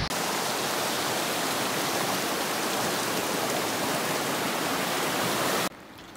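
A river flows beside a beaver dam in Tierra del Fuego, a loud, steady rushing wash of water that continues without break before cutting off abruptly near the end.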